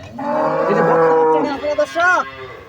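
A five- or six-day-old heifer calf gives a long, loud moo up close, followed by a couple of shorter rising bleating calls.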